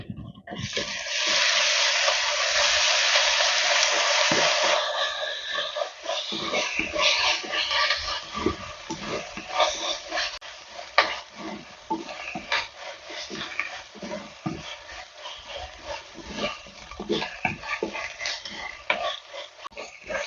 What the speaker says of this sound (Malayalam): നമ്മുടെ സവാളയും വെളുത്തുള്ളിയും ഇഞ്ചിയും പച്ചമുളകും വേപ്പിലയൊക്കെ നന്നായിട്ട് വഴന്നു വന്നിട്ടുണ്ട്